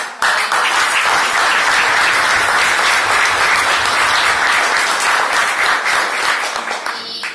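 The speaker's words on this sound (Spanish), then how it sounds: "se merecen un fuerte aplauso" An audience at a cultural gathering, the XV Encuentro Cultural Guerterense, breaks into loud, dense applause that holds steady for about seven seconds before thinning toward the end, with no voices over it.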